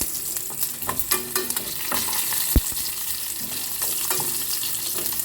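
Tempering seeds, asafoetida and garlic crackle in hot oil for gongura chutney, a busy close sizzle with spatters, scraping stirs and one sharp metal clank midway.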